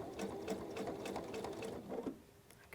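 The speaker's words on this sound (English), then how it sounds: "I'm letting the machine do the work" A sewing machine runs steadily as quilt rows for a Hunter Star quilt are stitched together, a fast, even mechanical whir held close and continuous for a couple of seconds before it stops.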